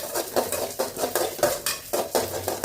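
A metal spoon stirs dried red chillies tempering in a pan, scraping in quick repeated strokes about every half second, close and fairly soft with a faint sizzle underneath.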